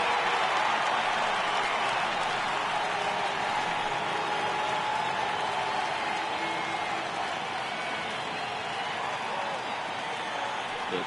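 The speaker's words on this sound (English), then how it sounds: "Crowd gets up for the 3-2." A baseball stadium crowd at the Nationals vs Reds Opening Day 2018 game rises and cheers for a 3-2 count, a steady, dense roar of many voices that holds at an even level throughout.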